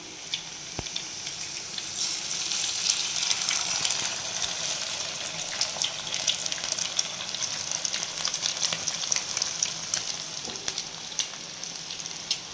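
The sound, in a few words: eggs frying with roasted onions in a pan for egg bhurji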